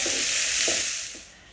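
Vegetables sizzle in a hot pan while being tossed, a steady bright hiss with a few soft scraping bursts as they shift, close and fairly loud before easing quieter at the end.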